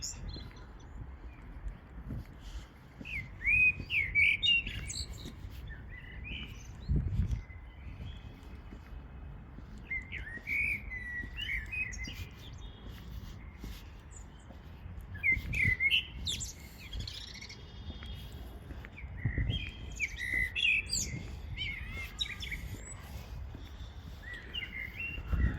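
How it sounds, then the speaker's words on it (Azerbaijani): Birds chirp and sing outdoors: bright, scattered calls come in several bursts over a faint, quiet background with occasional low thumps. "Quşların səsi."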